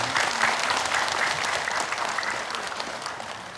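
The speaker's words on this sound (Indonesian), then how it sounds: "Boleh tepuk tangan" A studio audience at an Islamic sermon program applauds the ustadz, a full, continuous round of clapping, strong at first and easing a little toward the end, with no voices over it.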